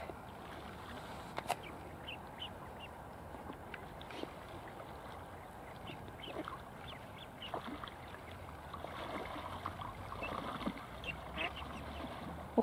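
Scattered mallard duck quacks sound over a steady outdoor background of water and breeze, moderately distant, with occasional sharper calls, as an aggressive duck chases smaller birds.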